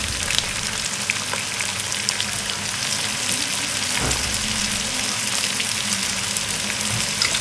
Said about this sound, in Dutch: En dit allemaal ga ik lekker bakken met de kruiden.